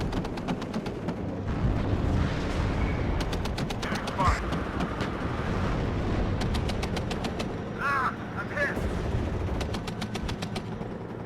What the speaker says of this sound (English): We got a fire team and a Bradley actually firing at the incoming units here.